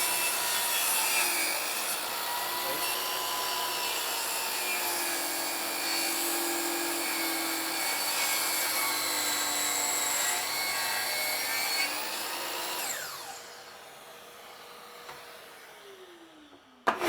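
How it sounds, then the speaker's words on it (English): Power saw cutting through a thick, heavy wooden window casing, a steady loud whining cut lasting about thirteen seconds before the blade spins down and stops. "When cutting these heavier, thicker casings, it's a lot of work for the saw."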